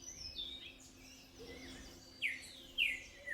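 Hooded mountain tanagers and toucans gather at a fruit feeder near Manizales, Colombia, giving faint, scattered high chirps and a couple of sharper calls over quiet background hiss, with no voices.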